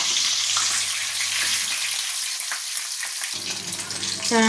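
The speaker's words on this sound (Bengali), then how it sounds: "এই চারটে মাথা ভাজি, ততক্ষণ মাছ ভাজা হয়ে গেলে আবার তারপরে কি স্টেপ আছে তোমাদের সাথে দেখাবো।" Four fish heads fry in hot oil, giving a steady, close sizzling hiss with occasional crackles and stirring that continues throughout.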